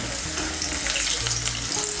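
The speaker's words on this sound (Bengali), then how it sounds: "নুন আর হলুদের গুঁড়োটাকে মিশিয়ে নিয়ে আলুগুলোকে লাল করে ভেজে নেব।" Potatoes fry in hot oil with salt and turmeric, giving a close, dense, steady crackling sizzle throughout, with no voices.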